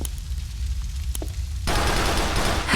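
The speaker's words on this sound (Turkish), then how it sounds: "Elimdeki silah da taramalı tabanca arkadaşlar." Machine pistol gunfire in GTA IV The Lost and Damned, sounding as a dense, continuous rattle of rapid shots that grows louder and fuller partway through, with no talking.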